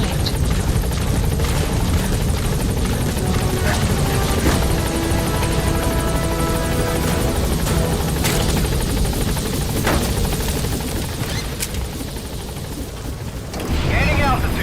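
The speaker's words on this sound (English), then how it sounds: "Support helicopter has arrived." In the video game Metal Gear Solid V, a support helicopter thrums loudly and continuously nearby with steady rotor chop, while radio-style voices talk over it.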